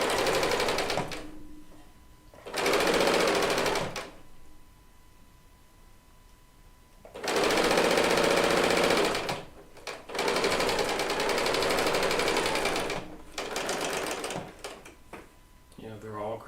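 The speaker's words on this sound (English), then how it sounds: "I've always had baby lock sergers" A Baby Lock serger runs in loud, fast bursts of stitching, several runs of a few seconds each separated by pauses, close by, with a person talking in between.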